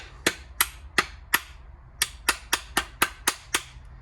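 In a garage during car maintenance, sharp hammer blows drive in a stopper in an irregular series, about twelve loud knocks with short gaps and a pause midway, no talking.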